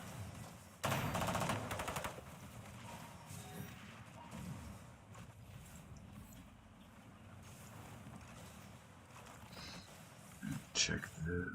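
Artillery and gunfire rumble in a Rome-era strategy video game: a burst of rapid shots near the start and a few sharp bangs near the end over a quiet, low battle din, with a voice talking.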